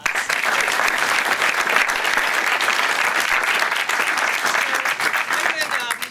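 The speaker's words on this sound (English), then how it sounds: "I think you deserve one more round of applause" An audience at a student cafe presentation gives student presenters a loud, sustained round of applause, dense clapping with a few cheers mixed in that fades at the very end.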